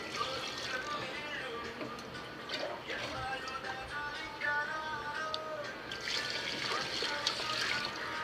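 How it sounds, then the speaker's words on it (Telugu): Water trickles and pours steadily onto rice for a Kuwaiti-style majboos biryani, a soft liquid stream running under a person talking. "రెండు చెమ్ములు బియ్యానికి మూడు చెమ్ములు నీళ్ళు సరిపోతాయి పోసుకుందాం నీళ్ళు"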